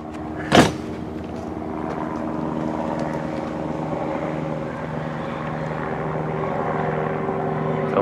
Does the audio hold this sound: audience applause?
no